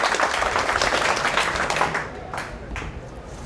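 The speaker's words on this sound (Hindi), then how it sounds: "जोर से यार, तालियां इतनी सुस्त क्यों हो गई?" An audience at a career counseling session applauds, a dense burst of clapping that starts loud and thins out toward the end as it fades.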